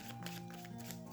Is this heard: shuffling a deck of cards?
yes